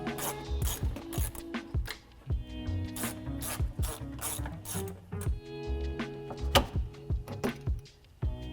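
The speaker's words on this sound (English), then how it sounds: "grabbing a ratchet with a 10mm socket, and we're going to remove the two screws here on the outside end" A hand ratchet with a 10mm socket backs out screws at the wheel well of a 2014-2021 Toyota Tundra during a fog light install: close, rapid clicking bursts repeating in uneven runs with short pauses between.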